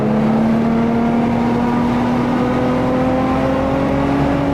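A Ferrari F12 V12 engine accelerates steadily, its loud, continuous tone climbing gradually in pitch as the car pulls harder, heard from inside with no talking.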